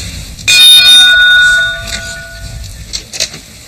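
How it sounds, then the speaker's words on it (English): A doorbell rings out sharply in a home on the Shetland or Western Isles coast, one bright ringing tone that lingers and fades, followed by a few faint knocks and rattles. "That's a doorbell."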